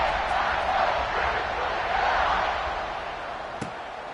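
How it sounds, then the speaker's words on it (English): Stadium crowd at a college football game in a video game, a loud continuous roar of cheering that slowly eases off, with a sharp thump near the end. "This crowd is buzzing after that last score."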